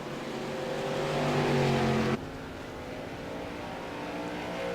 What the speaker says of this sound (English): Into the backstretch towards turn number 3 goes that 35, 6-man Inc. car.